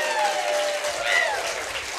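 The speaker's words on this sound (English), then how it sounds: "Everybody give them a big round of applause." Audience at a live radio show applauding a family in the crowd, a dense wash of clapping throughout, with a few faint tonal sounds and some murmuring voices mixed in.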